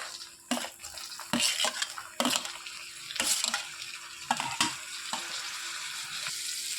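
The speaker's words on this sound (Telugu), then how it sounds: "ఉల్లిపాయలు బాగా మగ్గించుకొని టమాటాలు వేసేసుకోవాలి" Onions and tomatoes frying in oil for Indian potato curry, stirred in the pan: a soft continuous sizzle broken by several scraping stir strokes and light clinks of the spoon against the pan, close, with no talking.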